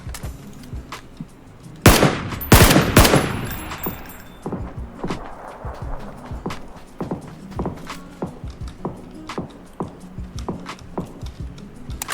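Bursts of gunfire in the video game PUBG, a sharp volley of close shots followed by scattered quieter shots and footstep-like clicks throughout, with no talking.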